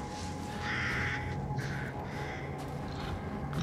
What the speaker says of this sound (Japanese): カラスが鳴いてたのね。